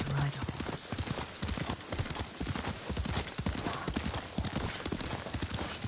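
Rapid horse hooves clopping at a gallop in the video game Ghost of Tsushima, dense and continuous, with a horse whinny and other game sounds mixed in.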